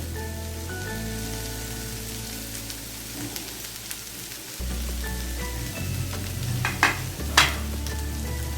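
Bell peppers stir-frying with chicken and vegetables for Chinese fried rice, a steady close sizzle with scattered stirring scrapes and a few sharper spatula clacks near the end.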